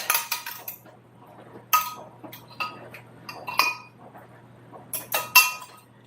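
Spoon clinks against a glass or ceramic dish while olive salad and ham casserole is stirred together, several sharp bursts of scraping and tapping in close, quiet surroundings with a faint steady hum underneath.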